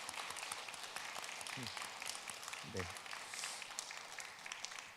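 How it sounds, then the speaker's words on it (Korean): A church congregation at an early-morning service gives a faint round of applause to encourage the youth group, who had stayed overnight at the church. The clapping sounds distant and soft, and a voice briefly murmurs under it. "우리 귀한 아이들을 위해서 박수로 한번 격려하면 좋겠습니다"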